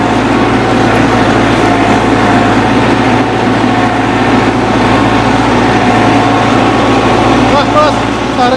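A Massey Ferguson MF385 tractor engine runs in a loud, steady low drone throughout, close by, with someone talking over it.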